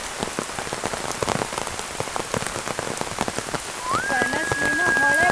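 Steady rain patters down across a village, a dense, even wash of drops from start to finish, and a rising, held tonal sound joins in over the last second and a half.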